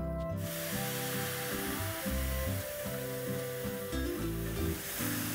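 Palak saag drops into a hot pan of golden garlic with a sudden loud sizzle that settles into a steady, crackling hiss of frying.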